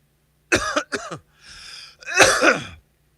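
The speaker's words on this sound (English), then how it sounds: "I gotta remind myself to cough away from the camera." A few sharp coughs and throat-clearing bursts, close and loud, in two quick clusters separated by a brief pause, with no talking.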